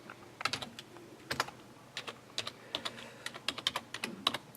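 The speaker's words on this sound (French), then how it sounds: "il faut taper les commandes que vous avez dans la doc aussi" Quick bursts of keystrokes on a computer keyboard while AT commands are entered, clustered clicks in short irregular runs with pauses, close and fairly quiet, with no talk.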